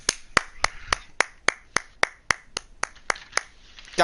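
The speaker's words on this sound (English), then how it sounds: "give a round of applause to you, bud" Slow, steady hand claps, about a dozen evenly spaced sharp smacks from one person nearby, with no voices.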